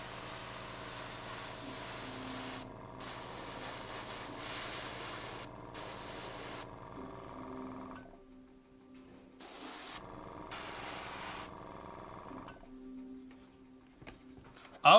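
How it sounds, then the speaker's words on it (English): Spray paint hissing onto a miniature in short, light bursts: a steady airy hiss cutting in and out, with a faint background hum between sprays. "And I'm only spraying a slight amount, very minimalistic."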